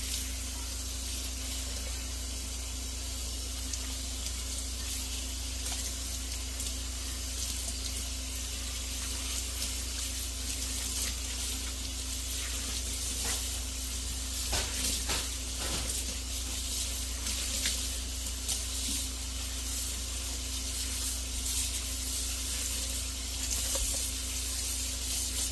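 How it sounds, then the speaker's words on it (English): Running water pours steadily over tie-dyed fabric being rinsed under a tap, a continuous even splashing hiss with a few brief louder bursts where the cloth is moved, heard up close with no talking. "final rinse"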